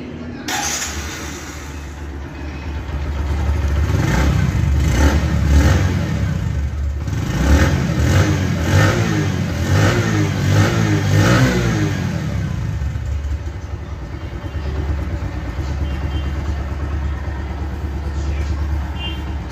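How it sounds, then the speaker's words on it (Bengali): A 2021 Bajaj Platina ComforTec 100cc motorcycle runs close by. A steady single-cylinder putter rises into a few revs in the middle, then settles back to idle. "এবার আমি যেটা দেখাবো বাইকটির সাউন্ড কন্ডিশন বাইকের সাউন্ড কেমন রয়েছে এবার আমি সেটা দেখাবো"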